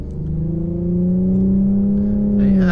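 A lowered Infiniti Q50 on coilovers with an aggressive exhaust system rumbles close by, its engine note climbing in a steady rev and holding loud and droning.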